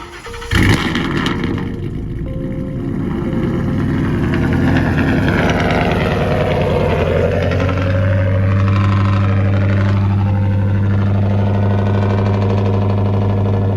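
A 2015 Ford Mustang 5.0 V8 with over 100,000 miles is remote-started, cranking and catching with a brief burst, then settling into a steady, low idle that continues unbroken, close by and fairly loud.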